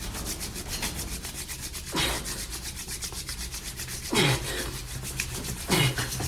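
Hands rubbed briskly together to warm up, a close dry rasping friction that runs continuously with a few louder strokes standing out.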